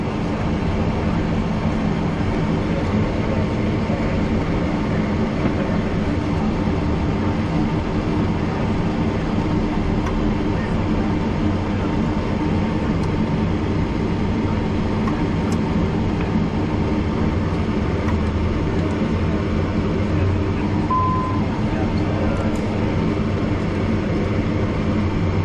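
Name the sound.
Learjet 45XR engine number one starting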